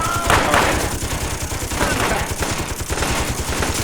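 Sustained automatic gunfire from the video game Close Combat First To Fight, dense rapid bursts rattling continuously under a loud, busy battle mix with shouted voices.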